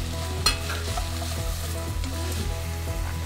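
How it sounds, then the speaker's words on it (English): Vegetables for broccoli soup sauté in a pan, a steady close sizzle with soft periodic scrapes of stirring, no talking. "I'm just gonna saute these until it's on the softer side"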